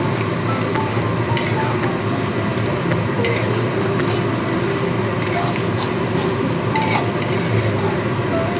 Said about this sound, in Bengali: চালটা দিয়ে খুব ভালো করে মিশিয়ে নিতে হবে